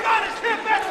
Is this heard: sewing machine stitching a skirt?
no